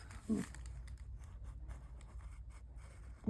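A Stabilo Marxall pencil scratches steadily across paper at close range, a soft continuous scraping with a light tap at the start and end.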